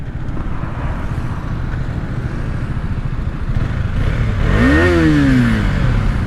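A Husqvarna Svartpilen 250 motorcycle engine roars loud and steady, then revs sharply upward and holds high near 11,000 RPM before easing off, with wind rush behind it.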